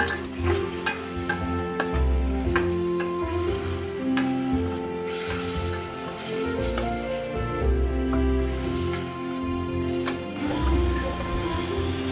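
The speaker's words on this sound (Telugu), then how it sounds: "కొంచెం సాల్ట్ అండ్ కొంచెం పసుపు వేసుకొని మనం ఫస్ట్ చికెన్ ఫ్రై చేసుకోవాలి" Chicken pieces with salt and turmeric fry steadily in a pan, a continuous sizzle with intermittent stirring clatter, close and fairly loud throughout.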